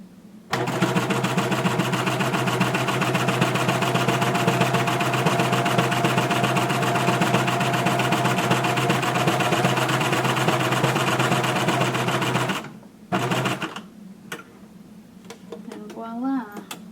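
A coverstitch sewing machine hems knit fabric in one long, steady, loud mechanical whir for about twelve seconds, then it stops abruptly. A short burst and faint handling noises follow.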